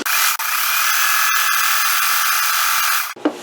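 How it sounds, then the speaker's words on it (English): A sewing machine stitches a polyester quilt, its motor running as a steady continuous whir for about three seconds with one brief dip early on, then stopping abruptly, followed by a short soft clunk. "Okay, I'm going to just start sewing."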